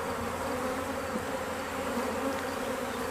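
Honey bees crawling on a hive frame as a swarm colony's frames are inspected, giving a steady, dense, mid-level buzz that holds even and unbroken throughout, without any speech.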